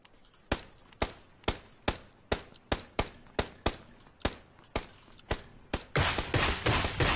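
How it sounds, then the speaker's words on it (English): Gunfire in PlayerUnknown's Battlegrounds: a steady run of a dozen or so loud, sharp single shots at a measured pace, closing in a denser rapid burst, with no talk over it. "I'm shooting."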